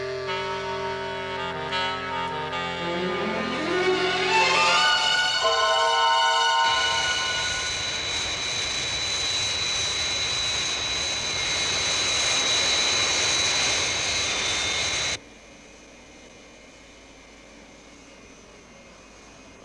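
The Fire Flash airliner, just airborne for Tokyo, gives a loud, sustained engine roar. A rising whine builds into a steady jet drone, which then drops to a quieter, lower hum.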